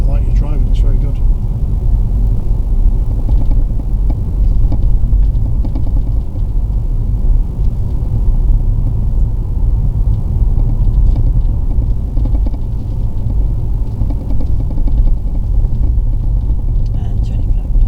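A car engine hums steadily while driving during a driving lesson, a low continuous rumble with quiet talk inside the cabin.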